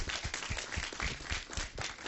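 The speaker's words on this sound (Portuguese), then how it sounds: "Solicito, se puder, então, uma salva de palmas" A brief burst of audience applause at a council training hearing, quick steady hand claps from a room of people, fairly faint and heard alone without speech.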